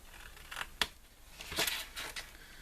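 Scissors cutting paper for an Easter chocolate gift bag: a few close, crisp snips with a sharp click, then a longer rustling cut.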